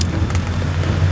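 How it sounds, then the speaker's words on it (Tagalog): Heavy rain pours down on a tent at night, a dense, continuous hiss with a low rumble underneath and no voices. "mas lumakas pa yung ulan kaya wala akong choice kundi magstay sa loob"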